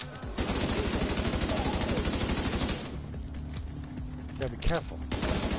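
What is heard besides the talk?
gunfire in video game The Division 2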